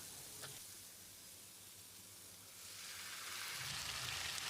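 Tomato paste frying in a pan for potato masala, a soft steady sizzle that swells louder and hissier toward the end, with no voices.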